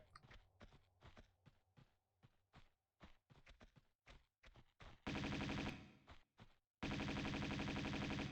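Shotgun blasts fired in Tomb Raider II: a run of sharp, spaced single shots with footsteps between them, then two long, loud bursts of sustained noise near the end.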